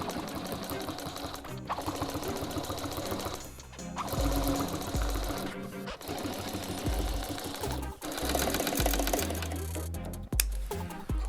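A sewing machine top-stitches car seat upholstery for an old-school Oldsmobile Cutlass in loud, close bursts of rapid stitching, broken by short stops and restarts. A voice is faintly present at times.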